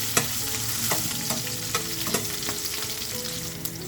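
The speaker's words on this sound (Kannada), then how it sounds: "ಇಲ್ಲಿ ಸ್ವಲ್ಪ ಬೆಳ್ಳುಳ್ಳಿನ ಜಜ್ಜಿಬಿಟ್ಟು ಹಾಕ್ಕೊಂಡಿದ್ದೀನಿ ಮೀಡಿಯಮ್ ಫ್ಲೇಮಲ್ಲಿ ಇಟ್ಟು ಸ್ವಲ್ಪ ಫ್ರೈ ಮಾಡ್ಕೊಳ್ಳೋಣ" Crushed garlic and chillies fry in a pan over a medium flame, giving a steady close sizzle with a few sharp spatters and stirring scrapes throughout.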